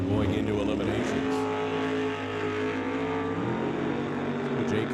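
Drag racing cars at an NHRA Summit ET Mission Finals qualifying session, including a little Chevy II, roar loudly and steadily through the run, engine tones shifting midway, with a commentator talking over the noise.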